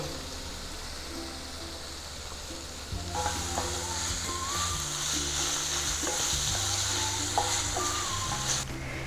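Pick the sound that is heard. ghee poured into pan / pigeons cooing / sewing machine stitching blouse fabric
ghee poured into pan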